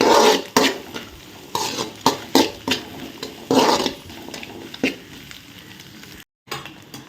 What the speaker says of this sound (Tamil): கட் பண்ணி வச்சுருக்க வெங்காயம் பச்சை மிளகாயை போடுங்க. இப்போ அதை வதங்கட்டும்.